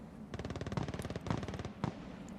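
Automatic gunfire in the shooter game Escape from Tarkov rattles out in a rapid, loud burst of evenly spaced shots, then a couple of separate single cracks near the end.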